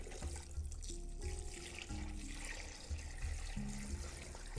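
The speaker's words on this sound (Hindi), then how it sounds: "इसमें पानी डाल देना है आपने" Water pours steadily into a bowl holding raw chicken and vinegar, a quiet continuous splashing trickle at close range for tandoori chicken preparation.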